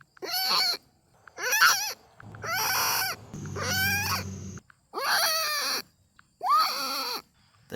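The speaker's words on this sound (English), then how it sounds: "When a Gallimimus hears or spots or smells a predator nearby, they would instantly let out a shriek warning call" Gallimimus dinosaur warning calls: six loud, harsh shrieks in a steady series, each about half a second to a second long with rising and falling honking pitch, some with a rough growling undertone, separated by short silences.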